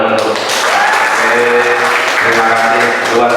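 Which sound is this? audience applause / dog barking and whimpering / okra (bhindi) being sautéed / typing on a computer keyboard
audience applause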